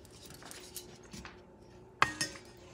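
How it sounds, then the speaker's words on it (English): A utensil stirring Puerto Rican coconut bread pudding ingredients with a few drops of vanilla in a bowl: quiet scraping and soft taps, then a sharp metallic clink followed by a second lighter clink. "I'm going to mix everything together."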